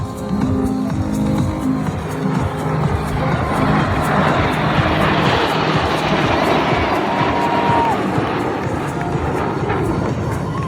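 Royal Air Force Red Arrows jets roar through a head-to-head pass at an air display, a broad engine rush swelling and fading over several seconds above faint crowd murmur.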